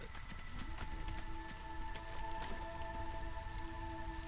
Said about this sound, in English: No, it's just a drizzle.